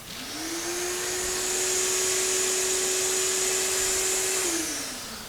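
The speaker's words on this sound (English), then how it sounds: "So I have a rigid shop vac in here now" A Ridgid shop vac in a workshop spins up, whines loudly at a steady pitch for several seconds, then winds down.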